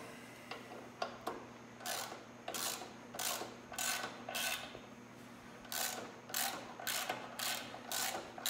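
A hand ratchet clicks in short, quick bursts while tightening a bolt on a Progressive shock absorber on a Harley low rider motorcycle, close and fairly quiet, with brief pauses between strokes.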